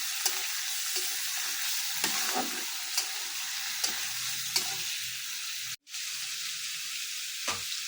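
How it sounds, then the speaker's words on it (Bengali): Chopped potatoes fry with water spinach in a pan, a steady bright sizzle broken by repeated stirring scrapes and a brief dropout near the end, with no talking. "এটার মধ্যে আলু কুচিগুলো দিয়ে দিব, ওটার সঙ্গে আলুগুলো ভাজা হয়ে যাবে।"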